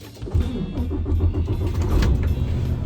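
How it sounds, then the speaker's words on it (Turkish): A semi truck's engine being started, a loud, steady low rumble close by that swells and holds throughout, with no talk over it. "Bismillah deyip tırı çalıştıralım"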